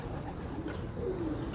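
A pigeon coos softly at a fancier's loft in Sialkot, a low murmuring call under a steady hiss of background noise.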